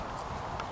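Stallion Invincible's hooves clop in a few soft, muffled steps as he walks over at a stud farm, faint and close.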